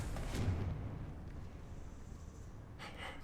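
A Confringo fire spell explodes in Hogwarts Legacy inside a catacomb: a loud, booming burst at the start fades into a low rumbling tail, and a second, smaller blast hits near the end.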